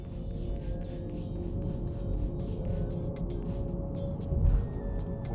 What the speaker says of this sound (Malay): Bunyi macam kapal angkasa alien.